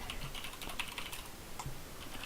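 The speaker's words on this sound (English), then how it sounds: "I was typing" Keys tapped on a computer keyboard during an online match lobby, a few quiet scattered clicks over a steady background hiss.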